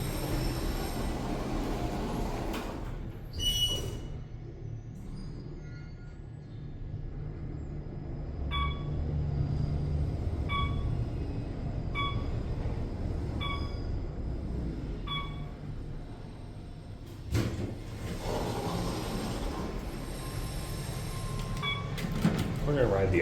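An Otis Series 1 Elevonic 411 traction elevator in a parking garage rides up to the fifth floor, with a low steady hum of the car moving, a few faint chime tones, door rumbles near the start and end, and someone talking quietly.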